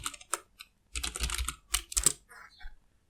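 Computer keyboard typing while entering a new password for a TP-Link router, with short bursts of quiet key clicks separated by pauses, near and soft, no voices.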